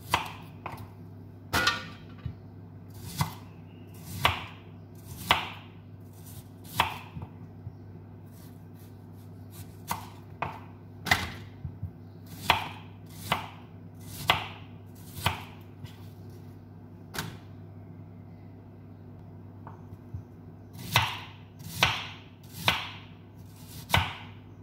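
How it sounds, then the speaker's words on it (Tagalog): A knife slices an onion into rings on a cutting board, a series of sharp, close taps in irregular bursts over a low steady background hum. "So ngayon guys mag slice tayo ng onion. Same lang din guys, circle yung pagka slice natin."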